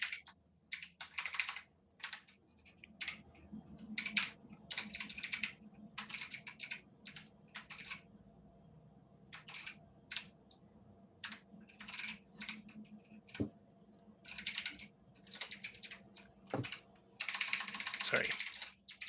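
Rapid bursts of typing on a computer keyboard in irregular runs with short pauses, fairly close and moderately loud over a low steady room hum, with no voices.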